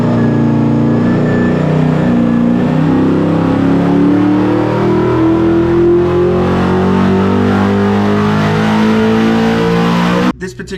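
A powerful Dodge R5 P7 NASCAR V8 engine in a Holden VK/VL revs up on a dyno, its tone climbing steadily in pitch for about ten seconds before cutting off abruptly.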